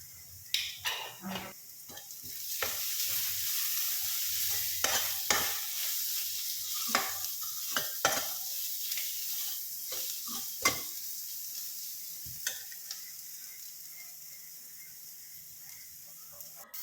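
Fish masala spices of turmeric, chili and coriander powder are stirred and sautéed in a pan, with a quiet sizzle beneath repeated sharp scrapes and taps of a spoon against the pan.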